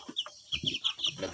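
Three-week-old free-range village chickens cluck softly in a pen, a few short, close chirping clucks in quick succession.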